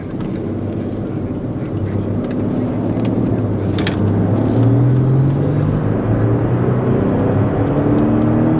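A Lexus LX 700h SUV pulls away onto the road, a steady loud engine and tyre drone building and rising in pitch, heard close and continuous with no talking.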